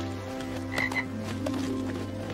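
A cartoon frog croaks twice in quick succession over a steady bed of background score, with no speech.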